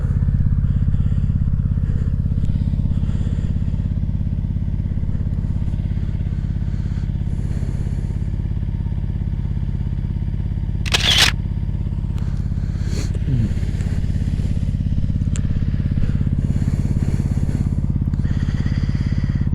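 A Yamaha VMAX motorcycle engine idling after a restart, a loud, deep, steady rumble held close for the whole stretch, with a brief clatter and scrape partway through.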